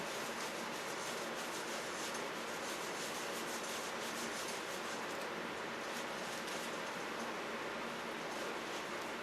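Steady, continuous rubbing of a cloth working finish into a smooth wooden bowl, close up with a soft rhythmic swishing.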